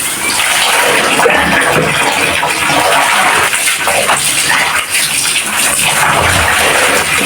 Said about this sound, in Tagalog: So, umaagos yung gripo.